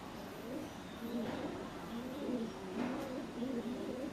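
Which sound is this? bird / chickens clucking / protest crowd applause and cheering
bird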